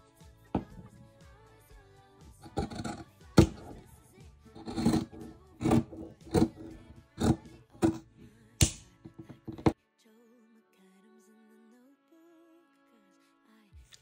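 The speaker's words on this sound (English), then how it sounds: "I'm just gonna cut straight across." Scissors cutting straight across the fabric of baseball pants during hemming, a run of sharp close snips in uneven rhythm, about a dozen cuts, then quiet with a faint hum.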